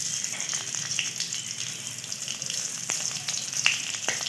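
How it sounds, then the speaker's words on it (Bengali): Whole garam masala and slit green chillies frying in hot oil for doi potol, a soft, continuous sizzle broken by scattered sharp crackles and pops, heard close without any talking. "এই তেলের মধ্যেই আমরা দিয়ে দেবো গোটা গরম মশলা আর কয়েকটা কাঁচা লঙ্কা চেরা।"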